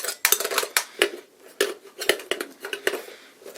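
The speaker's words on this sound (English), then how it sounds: "And then I'm going to put the cord in there, or the stove in here." Parts of a Trangia stove set, metal pots, kettle and burner, clatter and clink together as they are packed, a rapid series of close, bright metallic knocks and scrapes.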